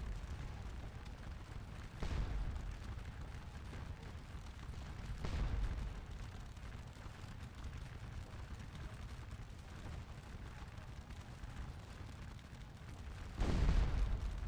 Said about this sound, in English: I think we're also getting hit by enemy artillery over here on our flank a bit.